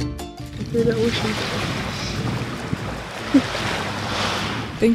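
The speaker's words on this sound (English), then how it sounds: "The ocean." Ocean waves wash steadily around an anchored sailboat, with a broad roar and buffeting wind noise on the microphone throughout.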